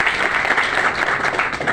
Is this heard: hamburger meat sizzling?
no